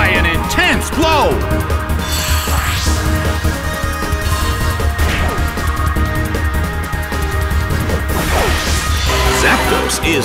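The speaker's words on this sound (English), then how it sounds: "Taken down by an intense blow." Pokémon attacks landing with intense blows during a Level 50 singles battle at the Pokétopia Main Street Colosseum: loud crashing and whacking impacts with swooshes, layered over continuous game music and an announcer's voice.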